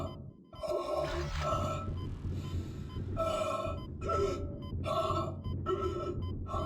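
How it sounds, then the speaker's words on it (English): Isaac from Dead Space gasps and pants for breath as his oxygen runs low, making repeated strained, ragged inhalations in an uneven rhythm that sound close and loud over a low ambient drone. "Whenever you're about to run out of oxygen, you can also hear Isaac start to panic,"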